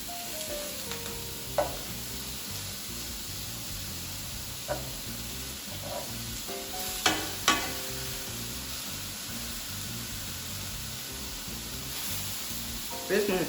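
Chicken sears in a hot pan for quesadillas, giving a steady, close hiss of sizzling that runs throughout, broken by a few light clinks and scrapes of a utensil.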